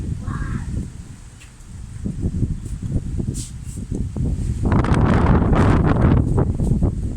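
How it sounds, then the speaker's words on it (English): Strong outdoor wind buffets the microphone in uneven low rumbling gusts, growing heavier and denser in the last few seconds, with faint bird calls and rustling in the background. "The wind is so powerful and blow me up."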